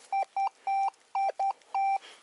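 A RUTUS Alter metal detector beeping over an old school stadium, six short bright electronic tones in quick succession, some clipped and some held longer, loud and close with no talk.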